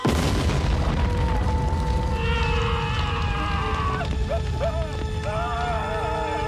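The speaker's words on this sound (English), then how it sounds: "We get an exploding soccer ball." A soccer ball explodes in a 1994 action film scene: a loud sustained boom and rumble fills the whole stretch, with a ringing tone and squealing, warbling sounds rising over it later.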